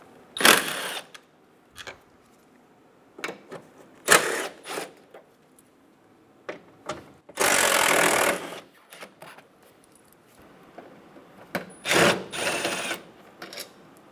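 A power tool spins out the 10mm headlight bolts on a 2007-2012 Nissan Altima during fender replacement: short, close bursts of whirring and ratcheting separated by quiet gaps, including one longer sustained run.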